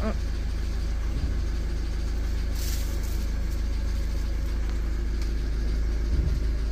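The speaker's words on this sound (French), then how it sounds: "t'as vu on entend le régime moteur il descend" Steady low engine hum of a moped motor idling close by, continuous and even, with faint clicks and background rustle, the engine speed dropping.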